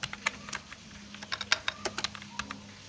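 Keys tapped on a computer keyboard while writing code, close irregular clicks in short bursts over a low background hum, with no talking.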